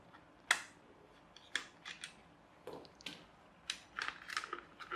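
A New Bright Blaze Runner RC model car is being unscrewed, producing a quiet series of sharp clicks and small scraping ticks from the screwdriver at irregular intervals, close to the microphone.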